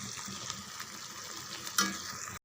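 Tomato chutney sizzles and spatters steadily in a hot pan, a continuous frying hiss with a brief louder pop of splatter near the end before it cuts off.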